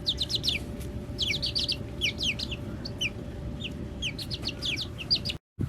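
Young chicks outdoors on grass chirp and peep in a steady scatter of high, quick calls, close by, over a low background hum.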